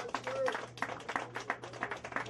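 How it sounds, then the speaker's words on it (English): An audience at a conscious hip hop lecture and a cappella performance event applauds. The clapping is moderate and fairly distant, steady for about two seconds, and a voice talks over it. "another round of applause to them"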